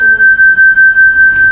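A bell struck with a mallet rings in a bright, sustained tone, loud and close. Its steady ring carries a regular pulsing beat, and a faint tap comes near the end.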